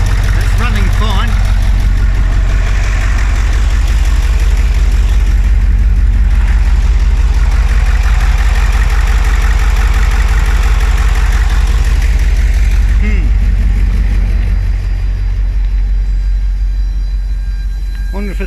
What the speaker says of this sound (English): Running off a proper fuel pump, and it's going through the filter, and it's running fine.